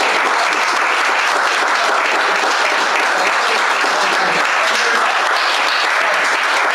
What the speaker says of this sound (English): I think we need a round of applause for our panel.